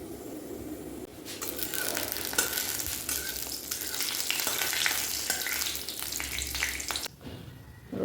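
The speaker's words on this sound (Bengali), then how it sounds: "আর এই যে কালো জিরে দেবো।" Nigella seeds dropped into an already hot wok burst into a loud, crackling sizzle after a quiet first second, then hiss steadily up close before dying down near the end.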